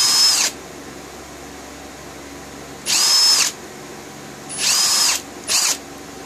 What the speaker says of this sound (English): We do it on both sides, that way it gets some of that excess off of it. And all your holes are drilled.